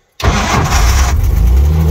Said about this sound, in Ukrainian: пропоную вам запустити двигун